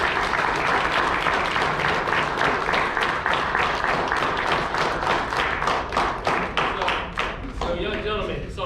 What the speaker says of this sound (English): give a round of applause for those who got to